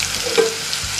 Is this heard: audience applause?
no